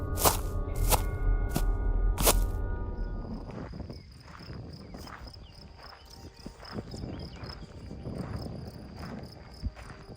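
Crickets chirp steadily in a remote forest in Poland, a thin continuous trill lasting throughout, with footsteps, rustling and a few loud knocks at the start.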